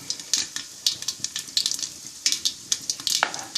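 Urad dal and chana dal fry in hot oil with mustard seeds, crackling and popping in quick, irregular bursts over a low sizzle, close and fairly clear.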